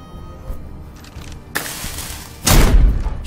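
Gunshot in the video game Crown Wars: The Black Prince, two sharp loud booming bursts about a second apart, the second heavier and longer, with no talking.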